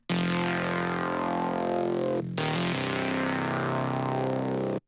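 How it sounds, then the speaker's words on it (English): A distorted Serum saw-wave bass synth plays a sustained, gritty, aggressive bass phrase with a brief gap and note change midway, loud and unaccompanied before stopping sharply. "it's just slightly more aggressive with the distortion"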